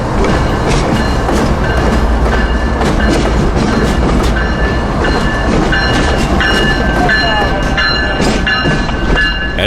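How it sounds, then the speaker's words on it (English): SCL heritage locomotives rolling slowly along a rail wye, loud continuous engine drone with wheel and rail clatter, squeals and clanks close by throughout. "allowing the engines to now move back onto the south leg of the Y"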